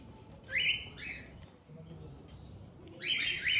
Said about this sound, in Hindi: अब व्हाइट तोता जोड़े वाले हैं।